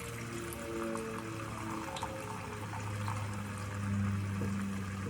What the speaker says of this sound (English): I'm gonna add my wine.